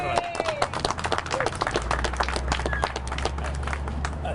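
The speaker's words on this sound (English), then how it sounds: "Let's give him a round of applause for that" An outdoor crowd applauds a city council president, a dense patter of many hands clapping under a low rumble, with a voice briefly audible over it.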